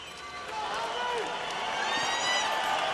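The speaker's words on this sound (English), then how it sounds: "The crowd getting excited about this man, Sultan Ibragimov" Boxing arena crowd cheering for heavyweight Sultan Ibragimov, a broad steady roar of the audience swelling slightly, with a commentator's voice speaking over it.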